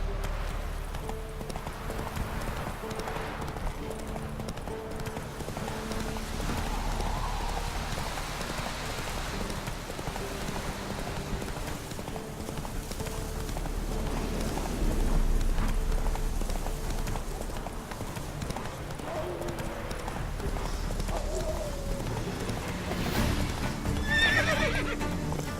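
Horse hooves clopping steadily with a neigh in The Witcher 3, heard over a continuous bed of rain and game ambience, moderately loud and without speech.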